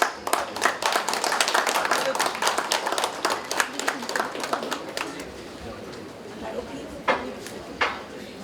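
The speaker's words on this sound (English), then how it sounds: "Let us extend a warm round of applause as we have our guest of honor for the day." A conference audience gives a round of applause for the guest of honor: dense, fairly close clapping for about five seconds that thins into scattered, fading claps, with a few late single claps.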